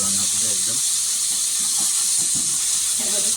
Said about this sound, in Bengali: আলু ভাজা হয়ে গেছে, মাংসটা ভাজছে